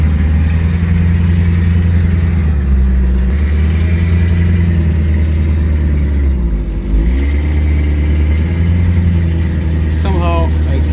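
A Rolls Royce Silver Shadow engine runs steadily at low revs as the car is maneuvered slowly, a deep continuous rumble with a brief dip, close and loud, with light handling noises near the end.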